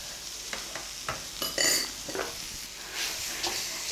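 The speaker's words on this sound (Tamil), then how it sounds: "எல்லாமே ஒன்றா நல்லா மிக்ஸ் ஆகிறது கிளறி விடணும்" A spoon stirs a tomato and egg mixture frying in a pan, with scraping strokes and clinks of the utensil over a steady close sizzle.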